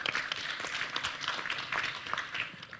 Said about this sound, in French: Ça, je crois que ça s'applaudit aussi.